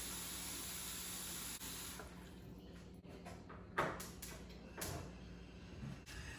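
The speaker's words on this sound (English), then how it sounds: "I fill the pot with water" Water from a tap runs into a cooking pot holding meat for Dublin coddle, a steady faint rushing stream with soft clunks and splashes as the pot shifts, heard close in a quiet kitchen.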